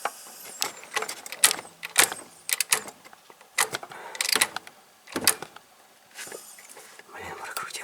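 A wrench turning the crankshaft of a Honda Accord engine with a knocking fault while timing marks are lined up, giving a series of sharp metallic clicks and clanks in uneven bursts, close by, with faint whispery voices in between.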